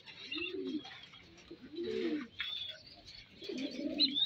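Racing pigeons coo in a loft, three soft, rolling low coos spaced a second or so apart, close by, with faint chirps and rustling around them.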